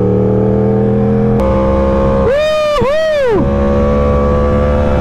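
A Yamaha R1M 1000cc sport motorcycle engine roars in a sweeping rev that rises, dips sharply on a downshift and climbs again before falling away, loud and close, with a rider's excited shout and talk over a steady engine hum.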